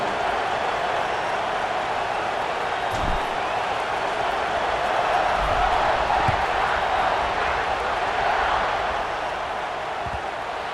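Stadium crowd at an Alabama vs Ohio State college football kickoff, a steady dense roar of many voices that holds loud and even throughout, with a few faint thuds underneath.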